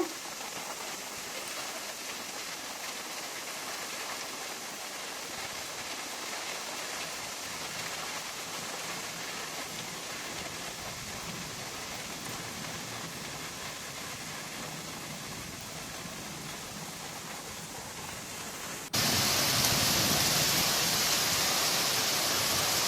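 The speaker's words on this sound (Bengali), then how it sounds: "বৃষ্টি শুরু হয়ে গেল।" Heavy rain falling under dark storm clouds with strong wind, a dense continuous hiss that stays even for most of the time, then jumps abruptly louder and brighter near the end.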